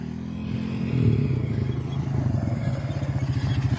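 A Honda 300EX ATV launches at a drag race practice session, its single-cylinder engine rising from idle into a close, pulsing, chugging growl that quickens over a few seconds.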